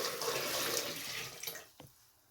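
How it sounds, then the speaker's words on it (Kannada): Water pours steadily into a pot holding sweet potatoes, a close rushing splash that tapers off, followed by a brief clunk and quiet. "ನೀರು ಹಾಕೋಣ."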